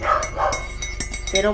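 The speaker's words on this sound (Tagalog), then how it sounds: "ang ingay ng aso" A dog barking a few times nearby in a short burst, mixed in with a person speaking.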